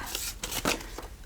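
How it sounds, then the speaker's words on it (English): A stack of card-like game pieces for a reading challenge game, some with foil covers, being shuffled by hand, giving several soft rustling riffles and flutters close by with no talking. "Lastly, shuffle these up."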